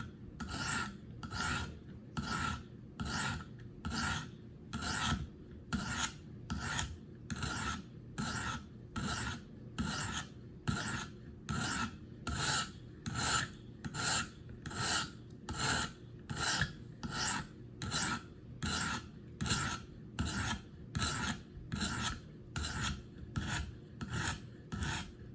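KME sharpener stone draws across a Gerber Paralite knife blade in a long series of evenly spaced rasping strokes, each a crisp scrape repeated in steady rhythm, close and alone.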